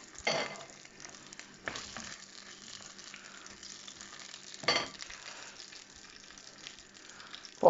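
Sausage, pricked with small holes, frying in a pan with a steady soft sizzle throughout, broken by a few louder bursts of stirring or spattering; no talking.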